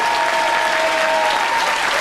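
A studio audience at a 1995 British TV comedy show applauds, with dense, steady clapping that is loud and close throughout.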